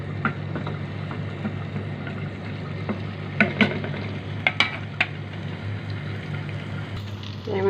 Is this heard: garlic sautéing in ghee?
yes